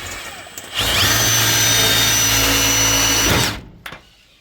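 A power drill runs in one sustained, loud burst of about three seconds with a steady whine, driving a screw into wood during corner trim work and struggling with poor-quality screws. It is near and heard alone, with brief knocks before and after.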